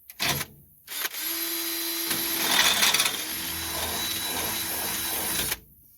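A power drill bores through a rear leaf spring part of a 2001 Ford F250 Super Duty truck: a brief start, then a steady close whine for several seconds as the bit nears breakthrough, then stops.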